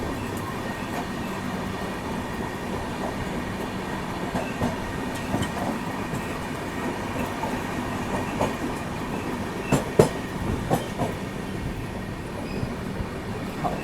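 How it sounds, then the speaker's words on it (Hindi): The Patna Tejas Rajdhani Express shunts in a railway yard, giving a continuous rumble of coaches with scattered clanks and a sharp metallic knock near the end. It sounds close, and no one speaks. "शंटिंग चल रही है पटना तेजस राजधानी एक्सप्रेस की"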